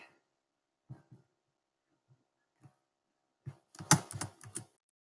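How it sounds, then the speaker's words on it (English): Keys on a computer keyboard are tapped in scattered single clicks, then a quick flurry of several keystrokes near the end, close and clear with no talk. "So first, I'm going to type in free logo"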